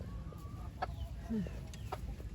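Chickens on a farm give a few short clucks and a low, brief call, heard fairly close over a steady rumble of background noise.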